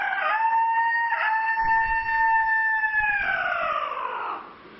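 A man imitates a wild junglefowl rooster crowing, giving one long harmonic crow of about four seconds that holds steady and then tails off, loud and alone with no other voices.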